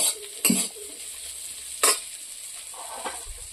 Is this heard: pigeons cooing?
no